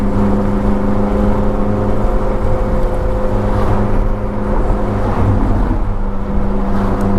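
An aftermarket Ferrari F430 V8 engine drones loud and steady from inside the car, a continuous throaty hum with no pauses or voices.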